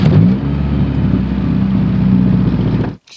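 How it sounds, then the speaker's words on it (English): A Honda Civic with an H22 engine and a vacuum leak revs and holds at high speed without dropping back, a steady loud engine drone that cuts off abruptly near the end. "I went to go punch it, and the idle would not drop."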